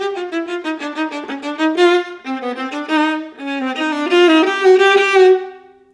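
Solo viola plays an excerpt from Brahms's Variations on a Theme by Haydn, a detached run of bowed notes with accents falling off the beat, close and clear with no talking.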